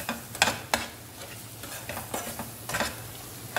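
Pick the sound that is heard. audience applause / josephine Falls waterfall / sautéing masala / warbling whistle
sautéing masala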